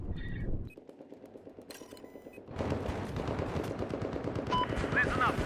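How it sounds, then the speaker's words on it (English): Rapid automatic gunfire from a full magazine being emptied in the video game Battlefield 4, a dense continuous burst of loud shots after a brief quieter gap, with sharp metallic pings near the end. "Straight up full mag dump."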